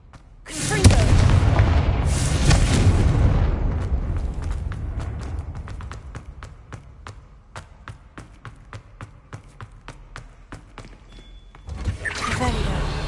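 A Confringo fire spell in the Hogwarts Legacy video game lets out a loud booming blast that rumbles for several seconds, then fades into a string of sharp crackling pops, and a second burst swells near the end.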